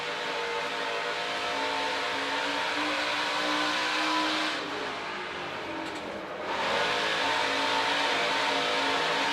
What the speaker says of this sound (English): Really able to get the throttle down hard and keep it down.